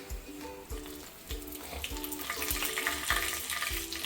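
Bay leaves go into hot oil for masala chitranna, giving a soft close sizzle broken by regular metallic stirring taps against the pan.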